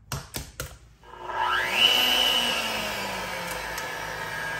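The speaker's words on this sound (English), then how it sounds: "So we'll go ahead and get the mixer started and I'll crack the eggs in for you." An electric mixer whirs steadily as it beats a flourless keto chocolate cake batter. It starts up after a few sharp knocks, rises to a loud continuous hum with a brief whine, then holds an even drone to the end.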